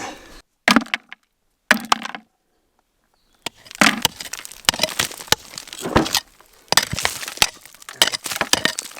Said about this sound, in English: Just busted off a nice piece of ore and we're starting to see iron sulfides embedded in the rock.